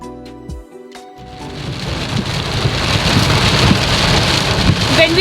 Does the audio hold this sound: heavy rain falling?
yes